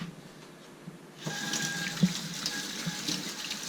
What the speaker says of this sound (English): I'm going to wash off my hand really fast.